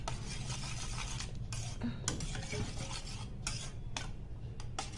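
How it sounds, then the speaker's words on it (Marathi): Freshly cooked hot dal (lentils) being mashed in a pot, soft steady rubbing and scraping with occasional light taps of the utensil, faint and close. "डाळ शिजली आहे लगेच आहे ना अशी मॅश करून घ्यायची गरम गरम असतानाच"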